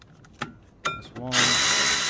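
A power tool whirs up and runs steadily, tightening the brake caliper bracket bolts on a Fiat 500 front brake, after a couple of short clicks and clanks of tool handling.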